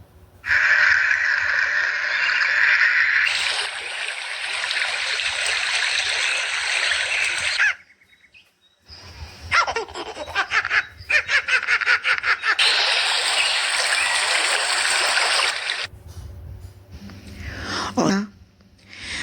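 Rushing river water pours in loud, steady broadband bursts, cut by short pauses and a mix of other noises in between, close and full with no talking over it.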